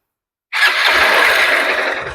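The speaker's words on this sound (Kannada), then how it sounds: "ಮತ್ತೆ ಗಾಡಿ ಸ್ಟಾರ್ಟ್ ಮಾಡ್ತೀನಿ ನೋಡಿ" A used Honda Unicorn motorcycle's engine fires up after half a second of silence and settles into a steady, loud idle, heard alone without any voices.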